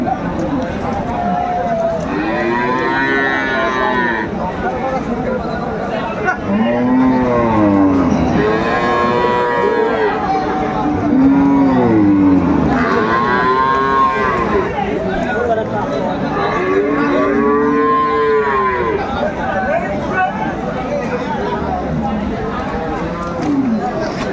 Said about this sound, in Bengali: শাহিওয়াল জাতের গাভী এবং বাছুর আমরা দেখছিলাম